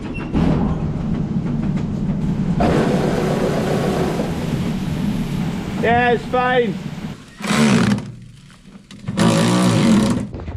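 Steady mechanical running drone of a farm grain elevator throughout, with brief speech and a couple of louder bursts near the end.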